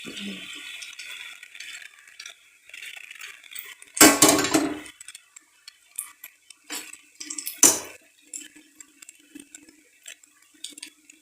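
A metal utensil scrapes and clinks against a cooking pot while soybeans are mixed with ground masala paste, intermittent clatters and one sharp loud scrape, close up with quiet pauses between strokes.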